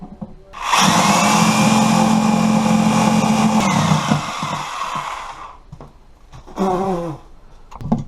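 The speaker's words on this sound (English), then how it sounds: "now we'll cut the hole out with our Sawzall, or you could use a jigsaw" A Sawzall reciprocating saw cuts a hole through a kitchen cabinet for a range hood install, a loud steady buzzing whine for about five seconds that then stops, followed by brief clattering.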